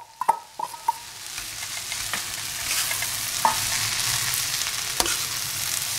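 Egg kothu parotta fries and sizzles in a pan while being stirred, with a few sharp metal utensil clanks early on and an occasional tap over a steady crackling sizzle.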